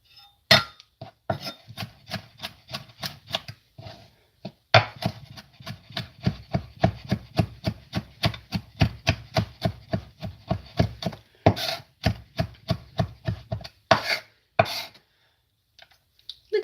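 A knife mincing garlic on a cutting board, sharp, quick, evenly spaced chops in long runs with short pauses, close and fairly quiet.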